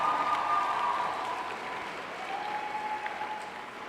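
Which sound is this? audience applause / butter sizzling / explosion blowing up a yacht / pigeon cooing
audience applause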